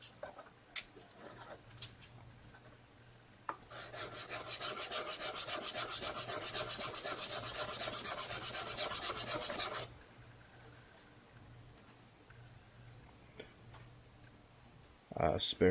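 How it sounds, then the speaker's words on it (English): A spokeshave blade is sharpened on a fine DMT diamond stone. Steady rasping strokes run for about six seconds, with a few faint clicks and taps before and after. The scraping is fairly quiet. "while I'm on that stone, I decided to go ahead and start on sharpening the blade."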